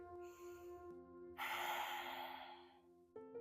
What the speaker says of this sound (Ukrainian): Робимо глибокий вдих, видих.